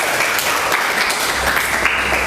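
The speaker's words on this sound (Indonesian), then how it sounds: "kita kasih tepuk tangan untuk Sulis." A high school economics class gives a student a round of applause, a dense, loud wash of many hands clapping together steadily in a classroom, with no talking over it.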